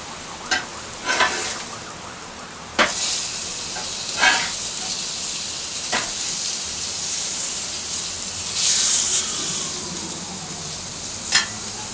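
A steak sears loudly on a hot grill, with steady crackling sizzle broken by sharp clanks and scrapes as it is turned, then a brief burst of louder hissing as the meat lands back on the bars.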